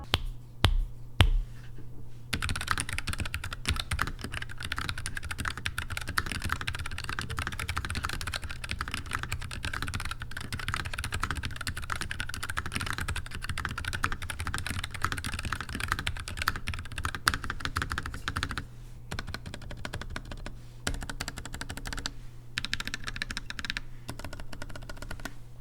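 Mechanical keyboard keys clack in fast, steady typing for most of the stretch, close and clear, with a couple of brief pauses between bursts and no talking.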